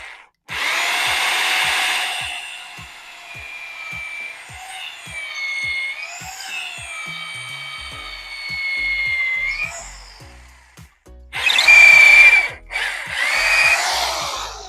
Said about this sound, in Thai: ก็มาดูการเจาะไม้นะครับ อันนี้เจาะไม้เทียมนะครับ เป็นดอกขนาด12มิลนะครับ